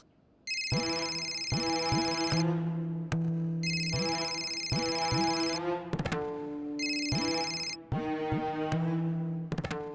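A telephone rings with an incoming call, sounding a loud electronic ringtone in three repeated bursts of bright chiming tones with short gaps between them, close and alone without speech.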